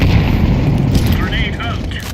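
A flashbang grenade going off in Counter-Strike 2, a loud booming burst with rumbling low end that fades into ringing, whining tones over about two seconds, with game noise behind it.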